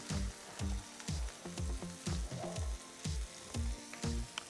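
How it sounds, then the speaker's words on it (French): Veal sears in a pan for a tataki, a soft, continuous sizzle broken by a rhythmic series of low thumping knocks. "il y a notre veau qui commence à colorer doucement"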